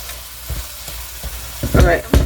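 Ground beef with onions and green peppers cooks in a pan, a soft sizzle punctuated by a few close, uneven stirring scrapes that grow louder toward the end; no voices.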